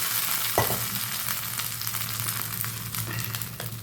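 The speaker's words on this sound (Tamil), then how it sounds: "நான் இப்போ தாளிச்சிட்றேன் காஞ்ச மிளகா கடுகு கருவேப்பிலை எல்லாம் போட்டு" Dried red chillies, mustard seeds and curry leaves crackle and sizzle in hot oil for chutney tempering, a continuous close frying hiss with scattered pops and spatters, no voices.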